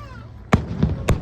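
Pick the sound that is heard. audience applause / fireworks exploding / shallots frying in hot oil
fireworks exploding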